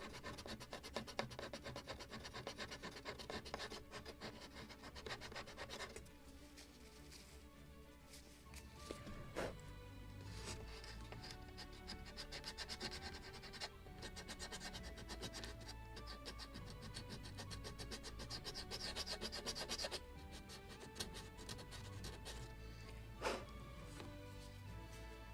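A wooden part of a model gunboat, the 1776 Philadelphia, is scraped in long continuous rasping strokes, close and fairly quiet, with a steady scratchy texture throughout and no speech.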